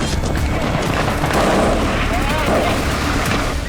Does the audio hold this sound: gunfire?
yes